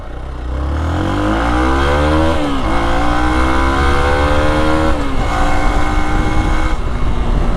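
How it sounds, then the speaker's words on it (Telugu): A 2022 Hero Xpulse 200 4V motorcycle ridden off-road revs up loud and close, engine pitch climbing through gears with brief dips at shifts, a sustained throaty drone with no talk. "మీరు చూస్తున్నారు కదా బైక్ని ఏ విధంగా రైడ్ చేస్తున్నాము"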